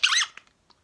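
Worn Pee-wee Herman pull-string doll with a failing voice box, letting out a brief, shrill, garbled squeaky chirp followed by a few faint clicks and ticks.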